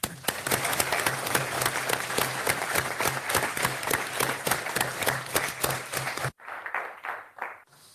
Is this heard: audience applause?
yes